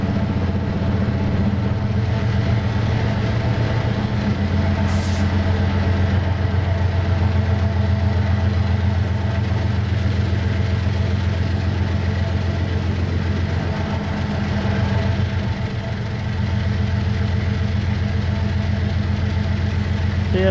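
A GE diesel locomotive engine in the Trainz simulator drones steadily with a deep, continuous rumble and hum, with a brief hiss of air near the start.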